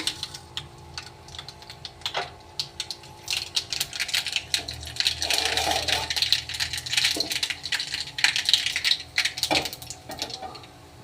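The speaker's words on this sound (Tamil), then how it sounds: "கொஞ்சம் கடுகு போட்டுக்கலாம்ப்பா" Mustard seeds crackle and pop in hot oil for tempering a savoury paniyaram batter, a dense run of sharp, rapid spattering ticks that builds and stays busy throughout, close and fairly loud with no talking.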